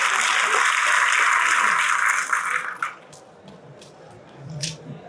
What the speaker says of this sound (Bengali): সবাই একটু জোরে করতালি দেই তাদের জন্য